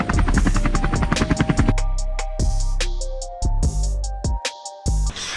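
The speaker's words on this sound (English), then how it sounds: "The chopper unit. The chopper unit. Helicopter!" A helicopter's rotor chops in loud, rapid pulses at close range for under two seconds, then gives way to a jumble of clattering sounds and scattered loud hits.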